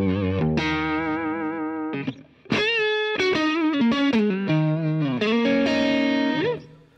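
Electric guitar on the neck pickup, driven through a modded Boss DS-1 Tri Roxx distortion pedal, plays bluesy sustained notes and bends, loud and saturated, with a brief gap of near silence partway through and no talking.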